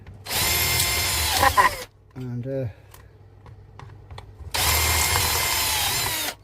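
A power drill whirs loudly in two long bursts while swapping a transformer on a 1950s Bell 3710A amplifier, separated by a pause with a short spoken word and some small clicks.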